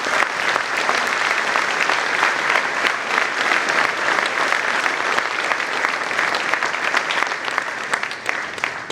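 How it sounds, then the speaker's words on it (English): Sustained applause from an audience at a veterans event as a guest speaker is brought to the stage, dense steady clapping throughout with no speech over it. "Please give a round of applause."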